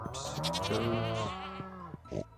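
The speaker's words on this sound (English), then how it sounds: "Sheep, goats," Sheep and goats in a farming video game let out one long, wavering bleat, loud and close, with a shorter cry just after and no talking.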